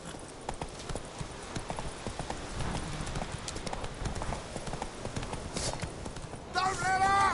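Roach the horse gallops in a video game with steady, rapid clip-clop hoofbeats throughout, ending in a short loud whinny.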